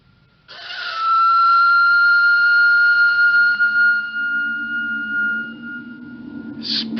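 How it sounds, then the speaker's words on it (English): A long, steady blast on an old whistle held for several seconds, shrill and sustained, fading slightly near the end with a low rumble underneath, in a radio drama. "Best way to find out is evidently to whistle for him."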